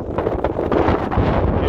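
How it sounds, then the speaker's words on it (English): Strong, cold wind buffeting a microphone outdoors at a building site, a continuous rough low roar with gusty surges and no voices. "It's so freaking cold and windy, it isn't funny."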